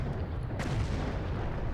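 Explosions boom in the video game Sniper Elite: Berlin 1945, a dense low rumble with a sharper blast standing out early on, loud and continuous.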